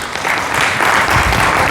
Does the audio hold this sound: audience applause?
yes